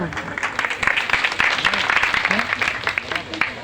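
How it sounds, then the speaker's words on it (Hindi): Audience applause at a religious assembly in Sangam Vihar, Delhi, steady dense clapping from a crowd with voices mixed in throughout. "ताली तो बजा दो।"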